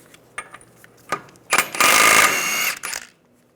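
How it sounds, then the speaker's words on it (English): A ratcheting socket wrench with a 30mm 12-point socket works loose the front axle nut on a 1998-2010 Volkswagen Beetle, giving a few short clicks and then a dense, loud ratcheting burst of about a second, close by. "We're going to take the axle nut off. Use a 30mm socket."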